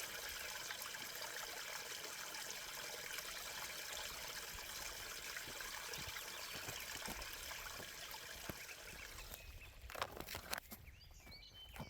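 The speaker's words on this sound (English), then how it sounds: "Water coming out of the earth." Spring water trickles out of muddy ground on a backpacking trail at Mora Flats, a soft, constant bubbling wash close by, with a few heavier splashes and scuffs near the end.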